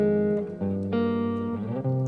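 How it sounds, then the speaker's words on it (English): Short Afrobeat guitar melody sample from a guitar sample pack: a few clean plucked notes and held chord tones over about two seconds, close and moderately loud, with no talk. "we'll be starting off with a guitar melody, and it is from our newly released guitar sample pack called Memories"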